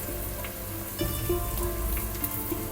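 Salmon fish curry with ginger-garlic paste, chili powder, homemade garam masala and salt fries in a pan, giving a steady, dense sizzle with faint crackles, close and continuous.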